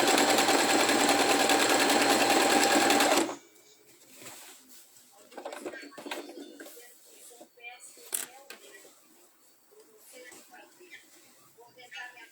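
Sewing machine running a zigzag edge finish stitch, a steady loud whirring buzz for about three seconds that then stops abruptly, leaving faint handling clicks and rustles.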